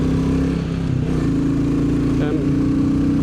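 A Royal Enfield Bullet single-cylinder thumper engine revs steadily, a throbbing mid-pitched drone that rises briefly then holds, loud and close with no talk.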